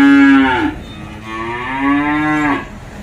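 Cattle on a Vietnamese farm moo twice, close and loud, each a long, low, drawn-out call with a falling end, and no talk over them.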